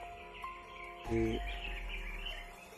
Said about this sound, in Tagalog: Narinig ko naman uli yung busis ng ibon na nagdadala ng kapahamakan mga tol.